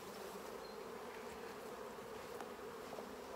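A dense, steady buzz of many honeybees being shaken off a frame during a hive inspection fills the clip, close and continuous, with no voices.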